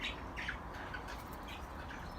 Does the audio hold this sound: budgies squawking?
yes